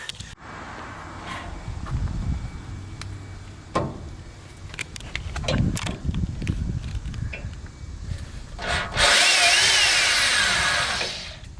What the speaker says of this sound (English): I'm drilling the holes for the hitch bracket.